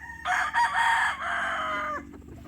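A Black Boston gamefowl stag crows once, loud and close, in a single drawn-out call lasting about two seconds.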